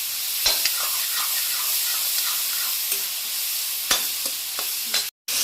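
Onions and tomatoes sautéing in oil for a Hogenakkal-style fish curry give a steady close sizzle, with a few sharp spatula scrapes against the pan and a brief dropout near the end.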